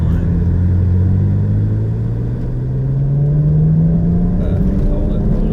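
A car engine pulls hard in third gear toward redline, its loud droning note climbing steadily in pitch for several seconds amid road rumble.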